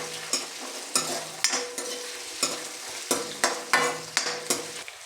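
Onion and garlic frying in a pan for a head mutton fry, a steady sizzle broken by repeated stirring scrapes at roughly half-second intervals, close and fairly loud with no talking.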